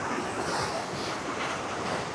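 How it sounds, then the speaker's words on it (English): Fast water rushes steadily through an outdoor channel, a dense broadband roar filling the whole moment without pause, with some wind buffeting the microphone. "How fast that water is rushing through there."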